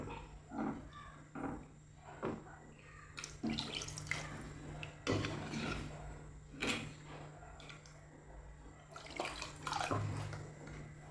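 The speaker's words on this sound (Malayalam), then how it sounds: "ഇത് നമുക്ക് കുറച്ച് വെള്ളം കൂടി ചേർത്ത് കൊടുക്കാം." Water splashes into a pan of pearl spot fish curry in several short, separate pours, each burst close and fairly loud, with quiet gaps and light clatter between.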